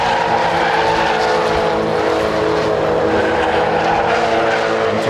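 Mazda MX-5 race cars in a 2013 BRSCC championship round at Snetterton circuit, engines droning loudly and steadily as they pass through a dusty section, a sustained close mechanical roar with no talk.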